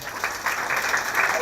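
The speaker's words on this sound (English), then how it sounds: "I think we need to applaud them for that." An audience applauds at a storytelling festival held at Loyola College in Chennai, a brief burst of even, dense clapping filling the hall, with a voice faintly present beneath it.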